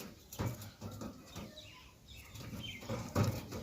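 Pigeon wings flap in short, irregular bursts at the Beldanga pigeon market in Murshidabad, close by, with some faint market bustle behind them.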